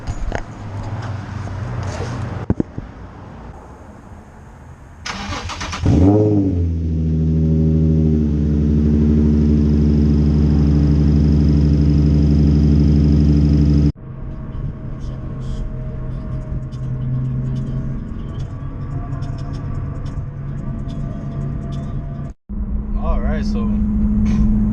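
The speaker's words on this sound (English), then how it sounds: "A little cold start." A Nissan Z engine cold-starts with a starter whir that catches into a loud, steady high idle full of harmonics and holds for several seconds before settling, followed by a lower idle as a person talks nearby.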